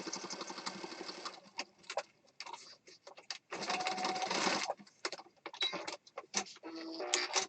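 A sewing machine stitching around a mixed media craft piece runs in short, uneven bursts of rapid mechanical whirring, stopping and starting with brief pauses between runs and no talking.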